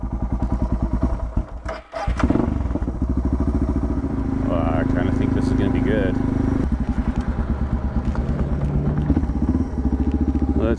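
A Suzuki DR650 motorcycle engine with modified carburetor runs steadily at close range, a thumping single-cylinder idle with a brief blip or stumble near the start, while someone talks over it at times.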